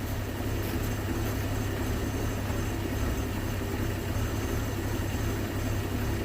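Carbureted engine of a 1981 Ford Mustang idling, a steady low rumble with constant broadband mechanical noise, close and unchanging throughout with no talk.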